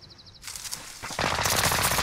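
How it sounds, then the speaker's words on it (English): Rapid automatic gunfire in the video game Call of Duty: Warzone starts abruptly and keeps going, growing louder after a short lighter volley, heard mostly alone at moderate level. "Someone's shooting at you."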